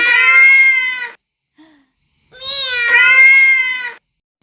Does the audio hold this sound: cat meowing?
yes